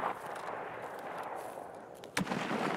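A single sharp gunshot rings out at a distance in Escape from Tarkov, cutting briefly through steady ambient wind-like noise.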